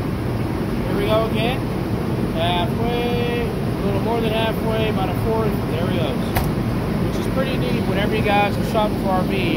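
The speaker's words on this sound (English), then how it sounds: "Sorry for the noise. I had the engine running." A steady, low engine rumble from the Cummins engine of a 2022 Tiffin Phaeton 40IH motorhome idles without a break beneath someone talking close by.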